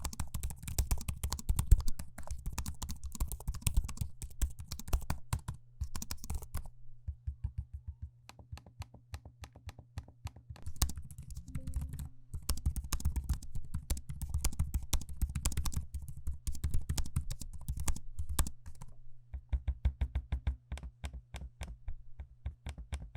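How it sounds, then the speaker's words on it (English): Fingers type on the keyboards and tap the trackpads of 2022 Asus Vivobook S 14X laptops, giving dense, close, crisp clicks in quick irregular bursts with short pauses between. "Here's a quick audio sample of me using both the keyboards and trackpads so you can hear how that sounds."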